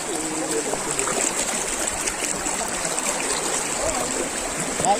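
Steady rushing water of a flowing river at Talon Pari Falls, Bulacan, continuous and fairly loud throughout, with no breaks.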